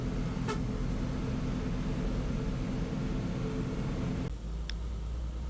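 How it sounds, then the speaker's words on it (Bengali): A Hino 1J bus engine drones steadily and loudly on the road from Dhaka toward Bhanga, a constant low rumble under wind and road noise, with a brief chirp near the start and a small shift late on. "হিনো ওয়ানজে বাসের ইঞ্জিন সাউন্ড উপভোগ করতে করতে আমরা ছুটে চলি গন্তব্যে"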